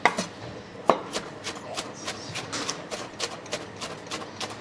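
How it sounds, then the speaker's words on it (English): A giant machete chops salad ingredients on a board at a food stall in Jerusalem, striking in a fast, fairly steady series of sharp knocks, close and moderately loud, with no voices. "There's absolutely no better way to make a salad than with a giant machete."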